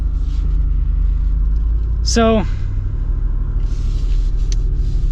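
A 2025 Jeep Wrangler Rubicon 392 with an AEV kit and its exhaust valves open gives a loud, steady, deep V8 rumble close by, with a brief spoken word over it.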